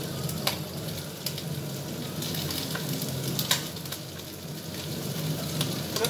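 Onion frying in a pan for an omelette: a constant hissing sizzle with occasional sharp clicks of stirring, close and steady.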